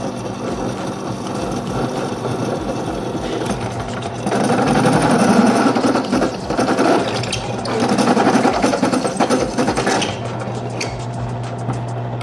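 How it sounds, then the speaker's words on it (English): A drill runs steadily through stainless steel plates for an HHO generator, with water used to cool the metal. The motor whine is close and continuous, and it gets louder and heavier as the bit bites into the plate. "So that goes through just like butter,"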